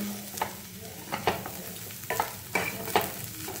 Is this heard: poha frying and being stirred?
yes